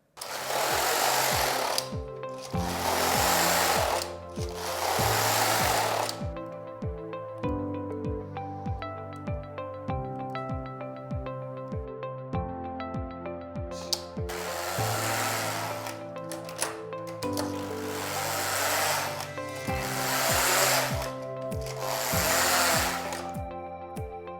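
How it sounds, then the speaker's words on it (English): Passap Duomatic 80 knitting machine knitting a neckband, with several long loud carriage passes that rattle and whir, separated by quieter stretches of steady mechanical clatter, close up with no talking. "I'm going to knit the neckband, knit it off on waste yarn"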